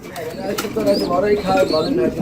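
Pigeons coo in a steady, overlapping chorus at a pigeon farm, with parent birds and young in the coops; the soft, throaty calls sit close and fairly loud and carry on through the whole stretch.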